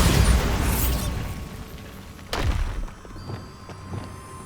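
A Bombarda spell bursts in Hogwarts Legacy with a loud, sharp explosion, then a second crack and rumble, followed by lighter mechanical clatter and ambient tones.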